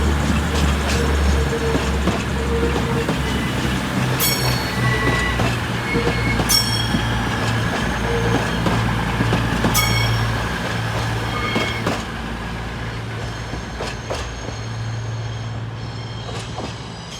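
Locomotive 22031 passes through Sheffield station with a steady low engine rumble, repeated metallic wheel squeals and rail clicks, loud and close throughout.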